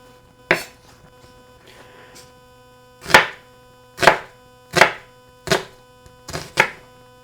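A sharp knife chops onions for fajitas on a hard board, six loud, distinct strikes with uneven gaps and a faint scrape between them, close by and with no talk.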